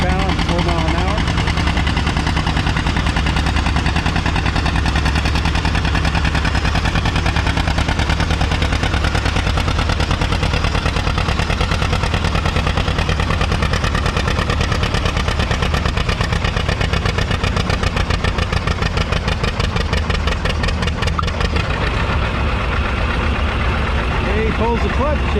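A John Deere 80 tractor pulls a 10,000-pound sled at four miles an hour at a vintage farming days tractor pull, its engine roaring loud and steady throughout with a dense rapid exhaust rattle.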